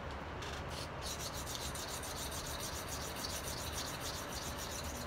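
An H-1 steel knife blade is drawn across a sharpening surface in a continuous, soft abrasive rub, quiet and steady, with a few lighter scraping strokes at the start.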